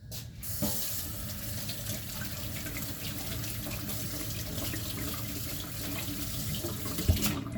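Water runs steadily from a tap in a broad, continuous splashing hiss, with a small clink near the end.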